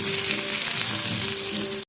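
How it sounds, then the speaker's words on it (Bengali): Onion and garlic paste frying in mustard oil gives a brief, loud, dense sizzle with faint stirring, cutting off abruptly at the end. "পেঁয়াজ রসুন ভাজা ভাজা হয়ে গেছে।"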